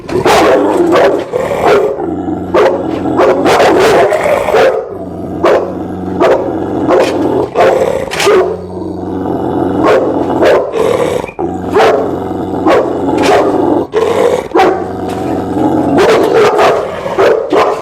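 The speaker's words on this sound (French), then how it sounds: "Il va aboyer sur moi, je vais me mettre en face." A dog barks in sharp repeated bursts with growls between them, loud and close, in an aggressive confrontation.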